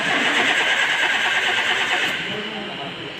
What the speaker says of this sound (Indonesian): Kita menemukan ada permasalahan mesin dapat berputar tapi tidak hidup.